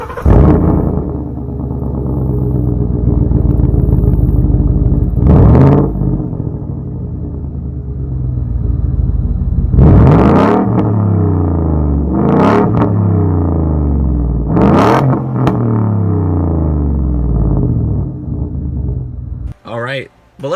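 A Ford F-150 pickup with the 5.0 V8 and a muffler-delete exhaust rumbles loudly up close, with several sharp throttle blips rising and falling over its deep idle.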